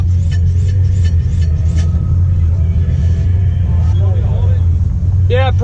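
A 1971 Dodge Demon barn find idles with a deep, steady low rumble at close range at an outdoor car show and swap meet, with people talking around it and a few short sharp sounds on top.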